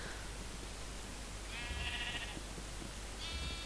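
Sheep in a survival video game bleat twice, short nasal baas spaced apart over a constant hissing ambient background.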